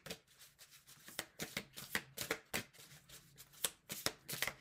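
Tarot cards are shuffled by hand, soft riffling and flicking bursts repeating in an irregular rhythm, close and fairly quiet with no talk over them.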